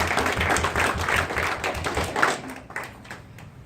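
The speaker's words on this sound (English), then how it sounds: "So I think we should all give him a round of applause." Office colleagues give a short round of applause, a small group's patter of clapping that thins out and fades toward the end.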